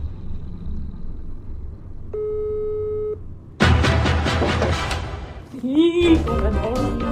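A telephone busy signal sounds during an attempted call, a steady beeping tone about a second long, followed by loud louder voices and commotion as people talk nearby.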